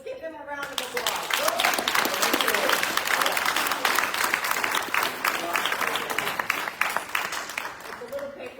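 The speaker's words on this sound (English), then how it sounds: "Let's give them a round of applause." Audience at a leadership forum breaks into sustained applause, many hands clapping densely for several seconds before tapering off, with a voice faintly under the clapping at the edges.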